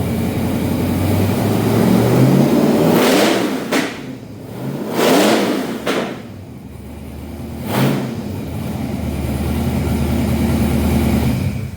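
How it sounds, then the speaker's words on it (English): A V8-powered custom airboat engine revs hard three times in quick bursts, each roar climbing and falling back toward a loud idle, very close and overpowering. "he's gonna rev that motor now that it's warm"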